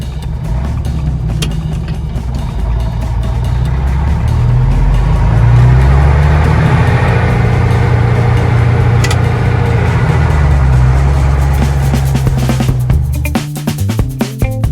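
Old bus diesel engine droning loudly while driving along narrowing country roads, a deep, steady rumble that swells in the middle and eases off toward the end, with rattles and knocks near the finish.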